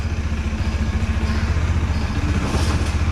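A 2018 Bajaj Dominar motorcycle engine idles steadily nearby while warming up after sitting unused for over two months, a low continuous throbbing rumble with no revving.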